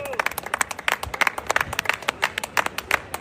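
A church congregation claps in a fast, steady rhythm to acclaim Jesus, the dense clapping carrying on throughout with voices mixed in.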